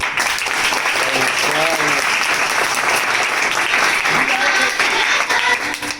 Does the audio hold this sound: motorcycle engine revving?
no